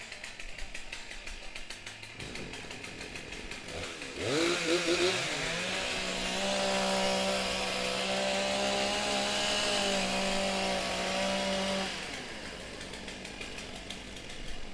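Chainsaws at a STIHL Timbersports women's and rookie championship in New Zealand rev up to warm, with sharp throttle blips rising into a loud, sustained high-pitched buzz before cutting back to idle.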